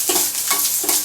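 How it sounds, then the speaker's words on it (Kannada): Green chillies and onion fry in a little oil, a loud close sizzle with quick stirring scrapes in short bursts. "ಹಸಿಮೆಣ್ಸಿನ್ಕಾಯಿ, ಈರುಳ್ಳಿ, ಒಂದು ಸ್ವಲ್ಪ ಒಂದು ಅರ್ಧ ಸ್ಪೂನಷ್ಟು ಎಣ್ಣೆ ಹಾಕಿ ಚೆನ್ನಾಗಿ"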